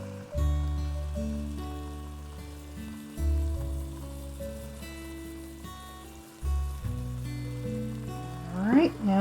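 Ground turkey sizzles in a frying pan, a soft steady crackle of meat browning that sits beneath louder background music.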